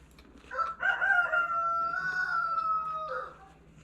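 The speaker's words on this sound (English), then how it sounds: "Rooster crowing competition out there." A single rooster crows outdoors, one long drawn-out cock-a-doodle-doo heard at moderate distance and fairly faint, with a low steady hum underneath and no talking.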